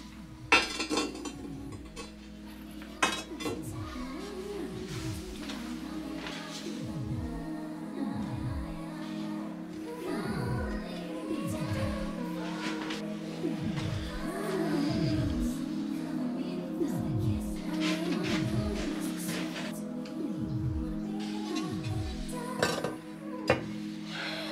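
Handmade ceramic dinner plates clink and knock as they are loaded into a kiln, a steady series of sharp close taps and rattles at irregular intervals with no talking.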